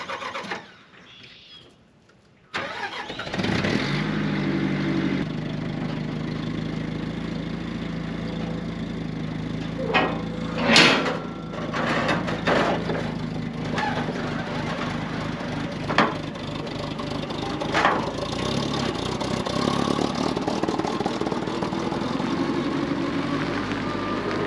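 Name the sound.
gasoline forklift engine running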